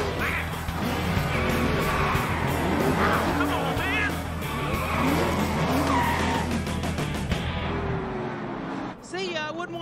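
Race cars from a 2006 Talladega Nights race scene touch and spin out, with screeching tire skids over loud engine roar and crowd-like din, then a sudden drop near the end before a final squeal.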